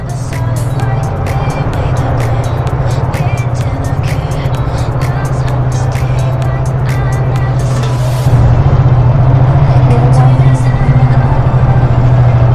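Motorcycles rumble steadily at a crowded parking area in La Trinidad, Benguet, with a constant low engine drone and a louder bike pulling past near the end.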